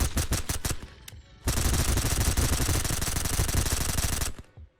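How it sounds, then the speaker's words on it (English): Video game gunfire empties a whole magazine in a prison level: a few quick single shots, a short pause, then a loud, sustained automatic burst lasting about three seconds before cutting off. "That was a mag dump."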